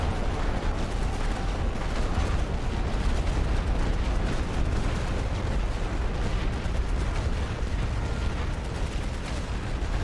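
Continuous rumbling artillery barrage from the video game The Great War: Western Front, dense booms and blasts rolling steadily at high level throughout with no talk.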